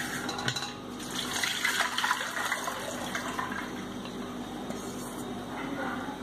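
Peeled green peas strained out of water, with a continuous close pour and gush of water draining through, swelling at times and never stopping.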